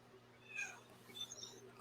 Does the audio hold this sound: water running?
no